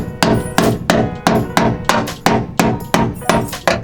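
Repeated hammer strikes on a hot brake rotor of a Nissan 240SX, about a dozen sharp metallic bangs in an even rhythm, loud and close, each ringing briefly before the next, with no voices.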